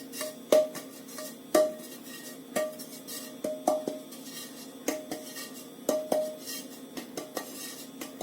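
A flour-dusted brioche tin tapped on its side, about a dozen sharp metallic clinks in an uneven rhythm, close and fairly quiet.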